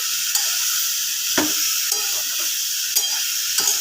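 Chicken kosa is stirred in a pan, with soft scraping strokes over a steady frying sizzle, a few sharper clinks of the spatula standing out now and then.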